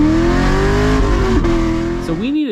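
A loud, raspy straight-piped C6 Corvette exhaust drones at high revs, then the pitch dips and climbs sharply as the engine is blipped near the end.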